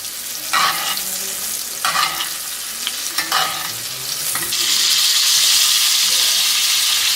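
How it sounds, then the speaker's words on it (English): Steak fat sizzles loudly in a cast iron pan, a steady close hiss broken by scraping stirs, then swelling into a stronger, fuller sizzle toward the end, with no talking. "Listen to that fat sizzle."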